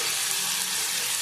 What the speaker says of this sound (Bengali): ফুলকপি ভালোভাবে ভাজা হয়ে গেছে,